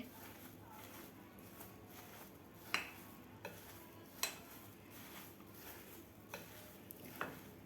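Soybean chunks being stirred into pakora batter in a bowl, with a soft continuous scraping and mixing texture and a few sharp utensil clinks against the bowl at irregular intervals, moderately close.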